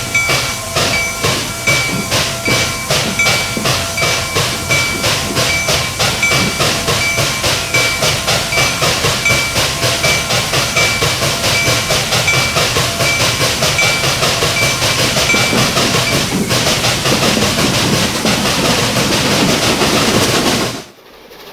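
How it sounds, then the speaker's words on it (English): A freight train in the Transport Fever 2 game rumbles along rails with a loud, rapid clickety-clack rhythm and steam-like hiss, running continuously before cutting off abruptly at the end. "Now that we have a freight train running around the south"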